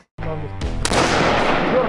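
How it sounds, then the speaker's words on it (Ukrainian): Automatic weapons fire at a military shooting training range, with a sharp burst onset followed by a dense, sustained rattle of shots echoing loudly over the rest of the clip. "Вони стрілятимуть з автоматичної зброї"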